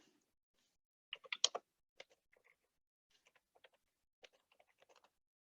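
Keystrokes on a computer keyboard as map search terms are entered, a quick cluster of clicks followed by sparse, scattered taps, faint and close in a quiet room.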